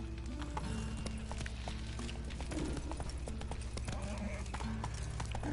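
Rhythmic hoofbeats of Geralt's horse Roach galloping in The Witcher 3, a quick steady clip-clop over a low droning game soundtrack, with occasional brief snorts and clatter.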